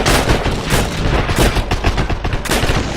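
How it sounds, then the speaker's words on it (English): Rapid video-game gunfire, dense bursts of shots and booms crowding a chaotic firefight, loud and continuous throughout with no talk over it. "Someone's shooting at me."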